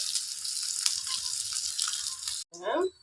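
Dried fish (karuvadu) frying on a slow flame, a steady close sizzle that runs continuously, with a brief break and a short spoken remark at the end.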